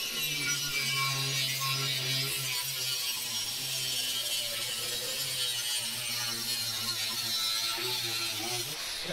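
A saw cuts into a driveshaft held in a vise, a steady rasping grind with repeated stroke-like ridges that carries on throughout at moderate volume, with no talking.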